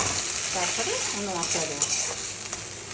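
Spices sauté in a hot pan for a Bengali vegetarian curry, a close, crackling sizzle with stirring scrapes while someone speaks briefly over it.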